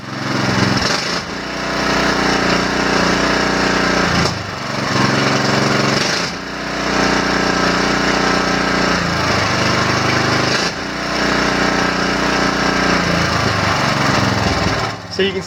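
A Briggs & Stratton small engine running after a governor adjustment, a loud, close, steady mechanical drone with a few brief dips and surges in speed over about fifteen seconds.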